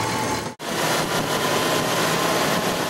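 A car engine held at 2,500 RPM during a vacuum test gives a steady, close, even hum with no talk, broken once by a brief dropout near the start.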